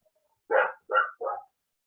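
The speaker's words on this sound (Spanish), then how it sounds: "esos son mis perros y no los puedo callar" Three loud, close dog barks in quick succession, with no talk over them.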